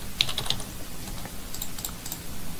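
Typing on a computer keyboard at a desk, a run of quiet, close key clicks with a few sharper taps near the start, over faint room noise and with no voices.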